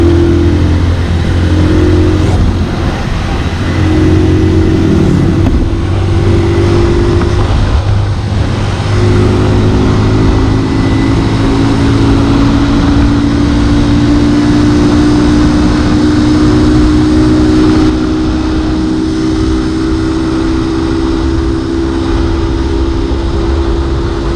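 A 2021 TMX 125 Alpha motorcycle with big rims and oversized tires held at full throttle on a top-speed run, its engine droning loud and steady with rising pitch and continuous wind and road roar throughout.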